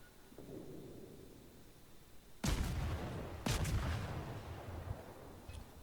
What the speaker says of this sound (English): One of the things you do in the Tashkent is try to keep your guns firing at all times.